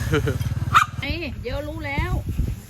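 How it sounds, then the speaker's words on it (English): A dog at an outdoor market in northeastern Thailand gives a few nearby yips and whimpering, whining barks, with people talking at the same time. "There's the dog."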